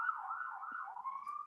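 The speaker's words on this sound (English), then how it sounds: "He shut off the siren, or she shut off the siren." A police car siren wails outside, a steady rising and falling tone heard at moderate distance, with no talking over it.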